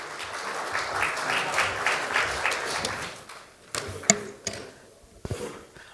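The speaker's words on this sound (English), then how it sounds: "Can I have a huge round of applause for Vijay, please?" Steady applause from an audience that thins out into scattered claps and a few sharp knocks toward the end.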